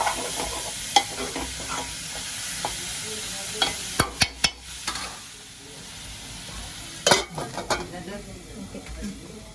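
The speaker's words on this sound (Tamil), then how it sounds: "வதங்கி வரட்டும்" Onions sautéing in a pan sizzle softly and steadily, close by, while a spoon scrapes and clanks against the pan in scattered stirring strokes.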